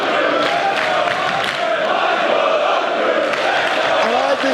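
Wrestling crowd at a RevPro event split in its support, a loud, dense roar of chanting and cheering voices that holds steady throughout, with a few rising shouts near the end.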